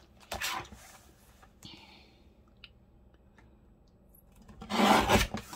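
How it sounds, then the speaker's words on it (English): Paper trimmer slicing patterned craft paper, heard as a few short raspy scraping strokes near the start and a louder, longer rasping cut at the end, close by and with no talking. "Let's get the trimmer out."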